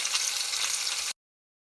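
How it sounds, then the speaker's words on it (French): Onions sizzle and brown in a hot pan, giving a steady, close frying hiss that cuts off abruptly after about a second. "je vais la sortir et je vais mettre mes oignons à rougir"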